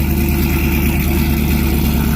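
A Ram truck fitted with a Whipple supercharger idles with a loud, choppy exhaust, a steady rumble close by with no one talking.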